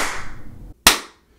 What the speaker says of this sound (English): The clap test